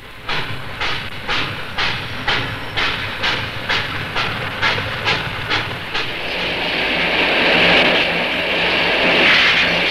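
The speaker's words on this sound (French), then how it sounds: "Un aimable chef de gare préside aux évolutions complexes des 14 trains qui circulent ensemble." Fourteen trains run together on a model railway layout in an archival 1962 French recording, their wheels ticking out an even, rapid clatter that gives way to a steady hiss and rumble. No voices are heard.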